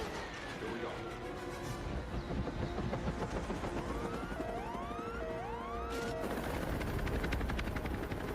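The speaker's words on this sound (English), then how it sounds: "He only flies a chopper." A helicopter flies in a tense action scene, its steady drone running under shouting voices, gunfire-like bursts and other busy background sounds.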